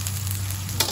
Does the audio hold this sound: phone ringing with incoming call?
no